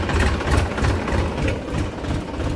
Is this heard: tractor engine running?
yes